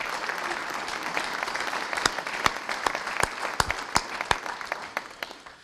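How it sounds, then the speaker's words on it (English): Audience applause for enlistees at a high school military recognition ceremony, a steady patter of many hands that thins out into a few loud, separate claps toward the end. "so a round of applause for all of them"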